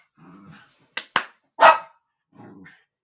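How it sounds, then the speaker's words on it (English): Dogs indoors growl low, then give a few sharp, loud barks close by, followed by another short growl. "My dogs are growling."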